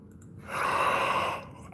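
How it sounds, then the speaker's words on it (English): A person yawns once, a drawn-out, breathy exhale that swells and fades over about a second, close to the microphone with no talk. "Sorry, I yawned."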